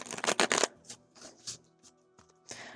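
A deck of tarot cards is riffle-shuffled like playing cards, giving a loud, close burst of rapid flutter followed by softer taps and shuffles, over faint background tones.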